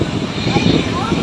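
Airplane at Pattimura Airport in Ambon, a steady broadband engine roar heard close up, with people talking over it.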